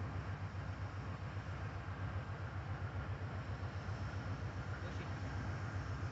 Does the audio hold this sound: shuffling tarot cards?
no